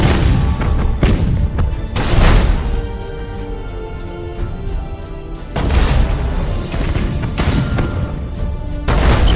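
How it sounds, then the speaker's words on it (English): Heavy booming broadside macro cannon blasts from a starship in a space strategy video game, rolling out in bursts, deep thuds layered with crashing impacts and rumbling echoes, loud and close with a few quiet gaps between volleys. "Broadside macro cannons ready to fire on your order"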